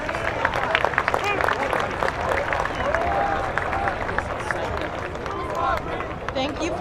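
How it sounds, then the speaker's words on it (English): A high school Veterans Day celebration crowd claps for the troops, dense applause mixed with murmuring voices and a few cheers, sustained at a moderate distance. "Let's give another round of applause for our troops."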